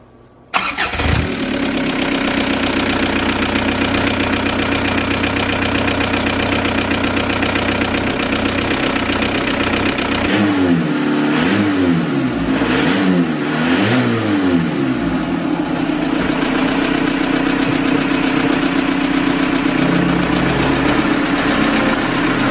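A Volkswagen TDI diesel engine cranks and catches, then settles into a loud, steady clattering idle with a brief rise and dip in revs midway, close up inside a shop.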